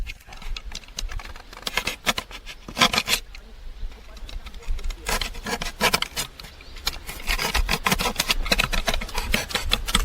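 A small piece of foam is cut for a homemade fishing leader holder, making dry scraping and rasping strokes close up in irregular bursts, a brief pause in between, with no voice.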